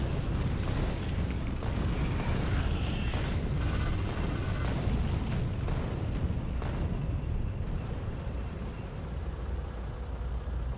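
A tank cannon fires in the video game Factorio Space Age, with rapid booming blasts and explosions rolling over one another in a dense, loud barrage, strongest in the first several seconds.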